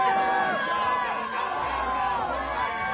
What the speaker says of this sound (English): The Let's Go Sean chants breaking out.